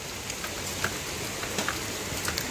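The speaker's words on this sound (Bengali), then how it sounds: "কি সুন্দর বৃষ্টি পড়ছে" Steady rain falling outdoors, a dense continuous patter with scattered nearby drops ticking on surfaces, no voices.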